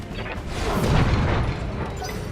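A mech blows up in the BattleTech video game: a rumbling explosion that swells over about a second and then lingers as a broad roar, with no talk over it.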